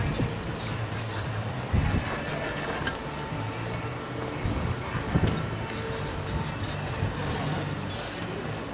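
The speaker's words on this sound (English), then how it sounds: "That's the train on this beautiful day." A steady low rumble of a passing train in the distance, continuous and fairly loud throughout, with occasional thumps and wind across the microphone.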